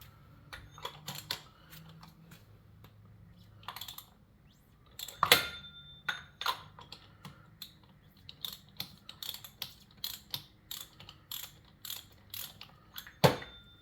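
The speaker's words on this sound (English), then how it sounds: "Okay, the filter is loosened." Kawasaki Ninja 400 oil filter being loosened by hand tool, giving scattered metallic clicks, ratcheting and scraping knocks in bursts, close and fairly quiet.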